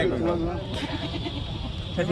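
A goat bleats at a livestock market in Faridkot, its short wavering cries rising near the start and again at the end amid crowd noise and nearby talking.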